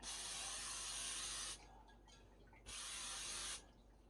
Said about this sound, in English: I'm going to spray it with the non-cooked stick cooking spray